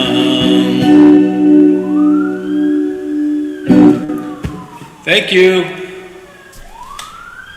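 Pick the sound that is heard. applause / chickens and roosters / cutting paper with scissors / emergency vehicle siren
emergency vehicle siren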